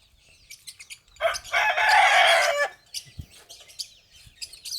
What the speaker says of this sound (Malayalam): ഇതൊക്കെയാണ് നാടൻ കോഴികൾ